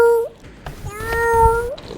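A person imitates a cat with their voice during a New Year's virtual reality stream. The meows are close and clear and come in several drawn-out calls, some ending with a rising, wavering pitch, alongside faint background chatter.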